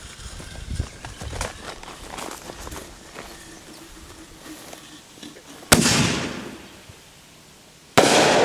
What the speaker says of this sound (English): Here is the Class C canister shell. You'll see that they have quite a bit of kick coming out of the tube.